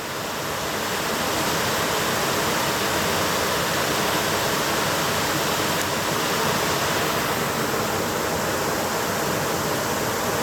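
A mossy brook waterfall at Eel Weir Brook, a smaller cascade below the main fall, pours in a steady, dense broadband rush that stays loud and even throughout with no voices.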